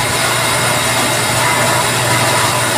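The electric motor of a water pump under an automatic pump control runs steadily, giving a loud, constant broadband hum and whine with no breaks.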